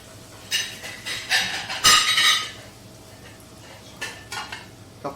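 Seafood linguine being tossed with garlic oil in a pan, heard as clinking and scraping of utensils against the pan in short bursts with a louder clatter midway, close by with faint sizzling underneath.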